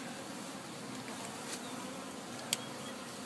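Honeybees buzz during a spring hive installation, a faint steady hum with a few brief louder passes of single bees close by, alone with no talk.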